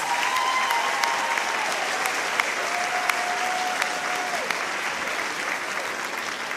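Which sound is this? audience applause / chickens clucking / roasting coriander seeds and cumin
audience applause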